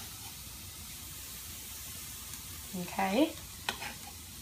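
Onion strips sauteing in a pan over medium heat, a soft steady sizzle in the background, with a brief clatter of utensils near the end and a single spoken word.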